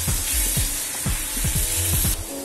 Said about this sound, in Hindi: तो अब मैं इसमें ऐड करूंगी बारीक चॉप किया हुआ टमेटो